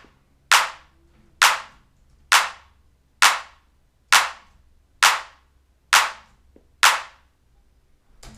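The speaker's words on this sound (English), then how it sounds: "For this clap, I use the same clap for everything" A single clap sample in a music production track, repeated eight times in a steady, evenly spaced rhythm; each hit is sharp and loud with a short decaying tail, alternately panned hard left and hard right, heard alone.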